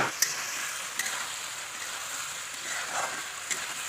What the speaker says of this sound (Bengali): এবার আলুটা দিয়ে দেবো, দিয়ে একটু কষাবো